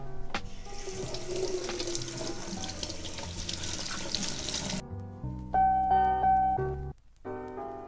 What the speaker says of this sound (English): And now we're gonna put it in cold water.